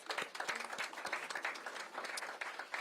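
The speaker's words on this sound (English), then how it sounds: "I just want to give him another round of applause." Lively applause from a small crowd, quick overlapping claps close by, rising and falling without pause.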